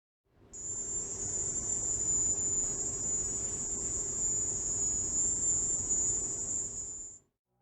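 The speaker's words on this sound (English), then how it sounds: "2 scientists who studied the recordings believe they captured the sound of lovelorn male crickets." Male crickets produce a loud, continuous high-pitched drone that fades in, holds steady for several seconds with no pauses, then cuts off, heard alone over a faint low hum.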